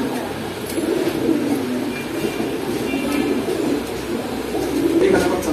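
Pigeons cooing in a pigeon shop at Kaptan Bazar, a steady low murmur of many birds close by, with voices talking over them throughout.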